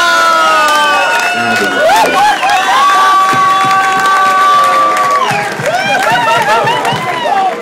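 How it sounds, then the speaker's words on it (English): A concert crowd cheers and shouts loudly, with high excited voices and scattered clapping filling the hall, while a performer's amplified voice sounds over the top. "Round of applause for the"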